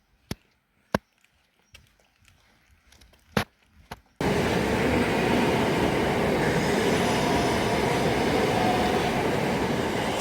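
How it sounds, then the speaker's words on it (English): A few sharp clicks and knocks, then a non-stopping train suddenly roars through Etchingham Station on the Hastings Line close by, a loud continuous rushing rumble of wheels on rails. "that train's running non-stop from Wadhurst to Battle"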